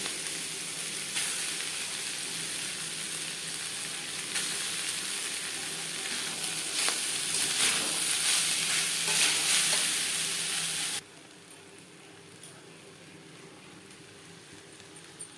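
Fried rice being stirred in a large wok (kadai), a steady close frying sizzle with scraping stir strokes for most of the clip, cutting off abruptly to a quieter background near the end.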